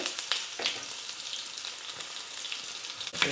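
Onions sizzle and crackle steadily in hot oil, with a few sharp spits and pops over the soft frying hiss.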